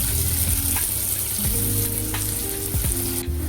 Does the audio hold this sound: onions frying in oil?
yes